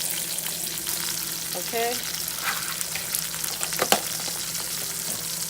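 Red onions sizzle and fry in a hot pan for homemade gravy, a steady crackling hiss with a stirring scrape partway through and a brief spoken word.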